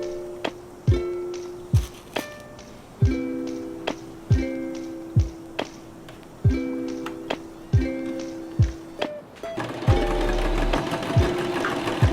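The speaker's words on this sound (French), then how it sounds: "Et on va épingler et coudre ce côté-là." A sewing machine stitches a folded fabric band with lace inside for a lace scrunchie, running in short repeated bursts with whirring motor and clicking needle, pausing between runs and ending in a faster, denser stretch; no talking.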